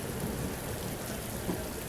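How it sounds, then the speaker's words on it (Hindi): Heavy, continuous rain pours during a train journey from Pilibhit to Mailani through the Mala forest, a steady dense hiss with no let-up and no voices. "ऐसी बारिश हो रही है कंटिन्यूस"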